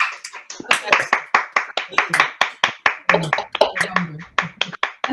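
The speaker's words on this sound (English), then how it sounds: "A round of applause for Sarah." Brisk applause from a small crowd, steady clapping throughout with a few scattered voices underneath.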